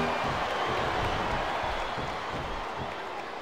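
A crowd in the WWE SmackDown! vs. RAW 2007 wrestling video game roars in a dense, steady wash of arena noise that holds evenly throughout, with no clear rhythm of individual words.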